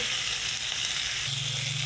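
Amodi fish fries in hot oil with turmeric and salt, giving a steady, dense sizzle up close that continues without a break.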